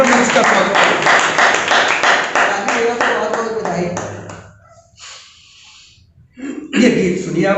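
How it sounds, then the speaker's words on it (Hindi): Audience applause welcoming a performer at a studio Hindi poetry recital: steady rhythmic clapping for about four seconds that thins out and fades, followed by a voice. "पुनः एक बार जोरदार तालियों से हम सभी ब्रजेंद्र मंच का स्वागत करते हैं।"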